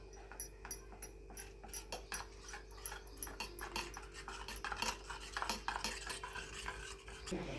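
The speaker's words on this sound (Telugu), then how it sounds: "ఉండలు లేకుండా కలుపుకోవాలి" A spoon stirs custard powder into a liquid mixture, clinking and scraping against the bowl in a steady, close rhythm over a low hum, with no talk.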